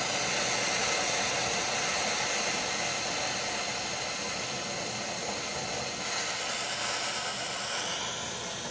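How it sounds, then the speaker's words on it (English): An oxyacetylene torch flame hisses in a woodturning shop, a steady, loud, broad rushing roar that runs unbroken from start to finish, close by and with no talk over it. "This does not work with resin, but my oxyacetylene torch."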